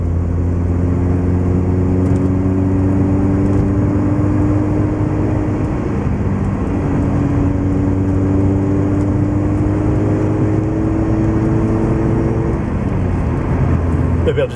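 Steady car engine drone heard from inside the vehicle, a continuous low hum with rising and falling harmonic sweeps as revs build and ease, loud and constant throughout.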